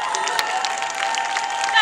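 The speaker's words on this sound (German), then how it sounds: "das ist euer Applaus" Audience applause at a lolita fashion show on an action stage at a convention, steady dense clapping with some cheering from a crowd, moderately near and continuous.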